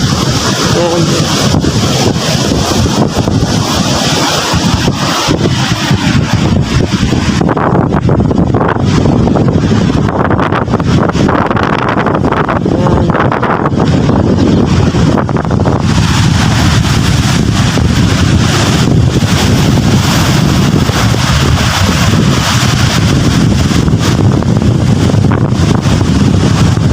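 Strong wind gusting outdoors by a trash-strewn shore, roaring continuously into the microphone with heavy rumbling buffets and a brief lull midway, no clear talk.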